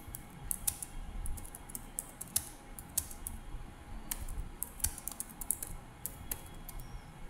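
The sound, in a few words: typing on a computer keyboard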